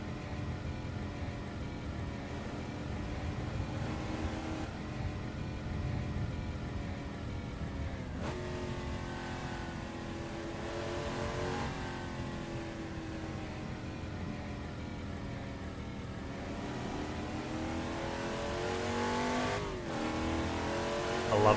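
A car engine hums steadily while driving and rises in pitch as it revs, heard continuously at a moderate, slightly distant level for about twenty seconds.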